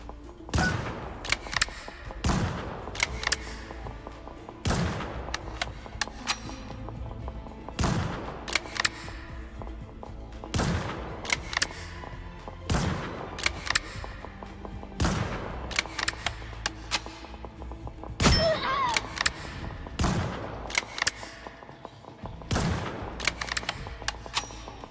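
Rapid bursts of gunfire from Black Widow in the video game Marvel Rivals, with sharp shots repeating every second or two over a dense bed of game noise and music.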